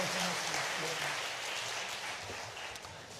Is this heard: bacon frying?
no